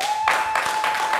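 Applause from a live television studio audience, a steady wash of clapping lasting about a second, fairly loud and continuous, with a faint steady tone running beneath it.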